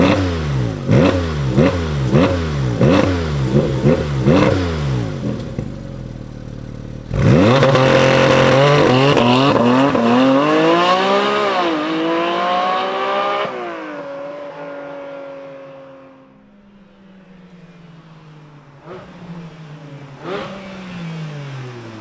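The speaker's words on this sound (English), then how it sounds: "let's fire it up and see launch control and have it go take off" A 2023 Porsche Cayman 718 GT4 RS starts up and revs hard in a series of rapid blips, then launches with a loud, rising howl through several gear shifts before fading as it pulls away, with a final rev near the end.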